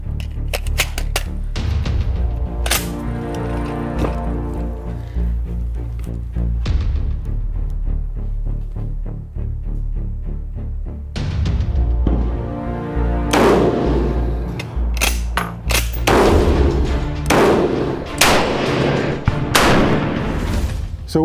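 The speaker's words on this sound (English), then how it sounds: "The rifle's cycling nicely, so let's try the 100 meter target." Taipan Light rifle fired at a 100 meter target outdoors, sharp loud shots with heavy thumps, several in irregular succession, each ringing briefly before the next.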